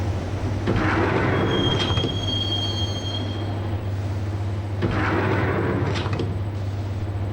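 A subway train ride in the Max Payne video game gives a steady loud rumble of rolling wheels and a low hum, with two swells of screeching wheel squeal along the track.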